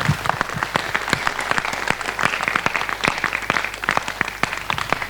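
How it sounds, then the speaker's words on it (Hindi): A college stage-show audience applauds loudly for itself, a dense, steady wash of many hands clapping with sharp individual claps standing out throughout, close and sustained. "एक बार अपने लिए जोरदार तालियां बजा दीजिए।"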